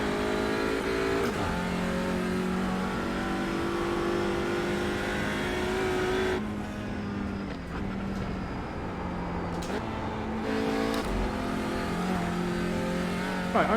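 A race car engine drones onboard during a slow out lap in NLS/VLN qualifying, with steady mid-revs, a couple of gear changes and a few brief revs in a loud, close, continuous hum.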